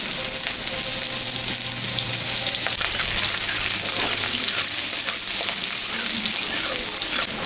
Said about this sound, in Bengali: পেঁয়াজটা সম্বরা দিয়ে দিলাম